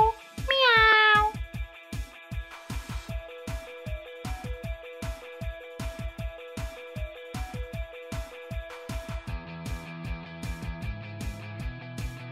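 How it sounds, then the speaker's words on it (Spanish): A cat meows sharply in a children's animated show set at a playground, and the meow sits over a bouncy, steadily pulsing music track that carries on to the end. "¡Miau! ¡Miau!"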